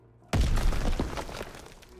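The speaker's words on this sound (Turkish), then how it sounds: "Patlama efekti falan da ooo." An explosion effect in the World War II shooter Call of Duty WW2 bursts suddenly after a short quiet moment, with a loud booming crack followed by rumbling debris that fades slowly.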